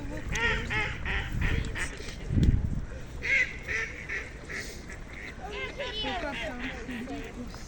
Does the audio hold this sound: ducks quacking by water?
yes